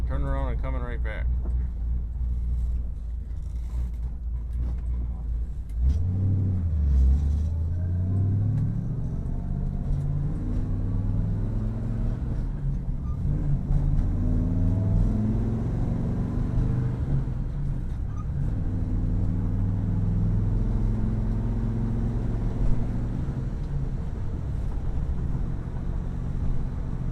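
A restored 1964 Chevrolet car drives along a road and turns around, its engine giving a steady low rumble with a shifting tone through the maneuver, heard from inside the car.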